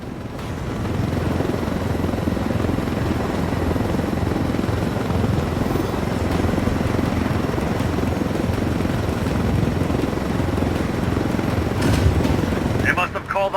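A helicopter in Ghost Recon: Wildlands, loud continuous rotor and engine roar that holds steady throughout, close and dominant, with a short voice near the end.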